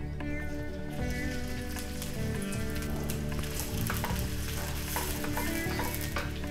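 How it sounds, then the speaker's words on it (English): Shallots fry in hot gingelly oil for pepper chicken masala, giving a dense, constant crackling sizzle with scattered pops, loud and close. "Now our oil is hot. I will add the shallots to it."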